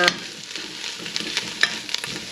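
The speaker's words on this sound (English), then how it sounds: "I like my tomato paste to fry out" Tomato paste frying in a pot for Guyanese metemgee, stirred with a spoon: steady close sizzling hiss with scraping stirring strokes and soft bubbling pops, no voices.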